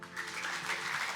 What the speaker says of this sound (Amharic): እስኪ በእናታችሁ አጨብጭቡለት